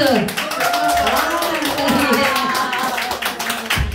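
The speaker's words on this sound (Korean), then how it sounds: "우리 이 박사님에게 박수" Clapping from an audience at a lecture forum on pandemic and everyday safety, blending with cheering voices and someone speaking loudly over it.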